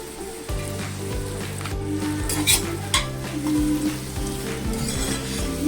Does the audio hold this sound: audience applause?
no